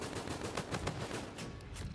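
Rapid automatic gunfire from an assault-rifle-mode weapon in Infinite Warfare, a dense, steady stream of close, loud shots with no pauses over the two seconds.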